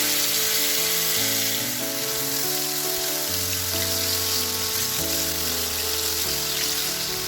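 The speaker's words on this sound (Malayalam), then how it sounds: "നമുക്കിനി മീൻ ഓരോ പീസായിട്ട് ഇതിലിട്ട് പൊരിച്ചെടുക്കാം" Fish pieces frying in hot coconut oil on a tawa give a steady, loud sizzle throughout, with background music playing over it.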